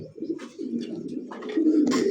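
Pigeons at a seller's stall coo in low, throaty, rolling calls, several overlapping up close, with faint rustling and clatter around them.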